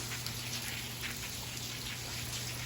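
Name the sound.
rain falling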